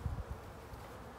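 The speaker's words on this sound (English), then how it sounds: "the bees are super busy today" Honey bees hum in a soft, steady drone at the hive entrance in early spring as foragers carry pollen in, faint and close with no voice over it.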